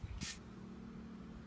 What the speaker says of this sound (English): I'm gonna spray the original first.